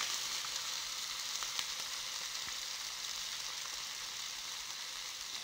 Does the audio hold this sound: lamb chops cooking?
yes